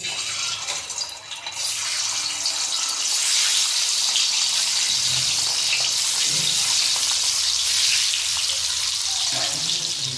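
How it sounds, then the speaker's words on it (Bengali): Salted eggs hit hot oil in a pan, a quiet start swelling into a loud, continuous crackling sizzle with brief bubbling and stirring sounds, close up and free of talk. "গরম হয়ে গেছে ডিমগুলো ভেজে নেবে"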